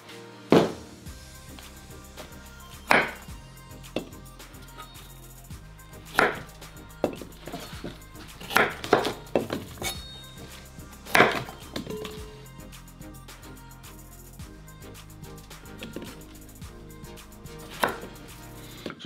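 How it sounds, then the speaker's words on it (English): A knife trimming browned parts off a piece of meat on a board: sharp, irregular chopping knocks, some in quick clusters and others spaced out, close and clear with no talking. "Just cutting the brown parts off of this."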